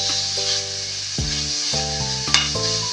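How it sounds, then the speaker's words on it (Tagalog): Pork fat sizzles steadily in a hot pan as it renders its oil, a constant close crackling hiss with a sustained tonal hum running underneath. "Pork taba guys. Magpagawas sa kanyang mantika."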